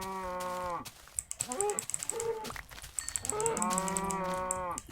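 Minecraft cows moo in repeated drawn-out, nasal lowing calls, close and loud, with clicking mechanical game sounds between them and no talking.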